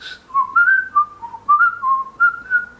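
A person whistles a short, lilting tune alone, with clear, bright, warbling notes in quick phrases.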